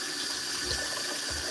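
Tap water runs steadily into a bottle at a sink, a continuous splashing flow at close range with no talking.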